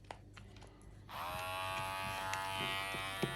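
A Silvercrest electric shaver switches on after a second of quiet, then hums with a steady, close, high-pitched motor buzz that keeps going to the end.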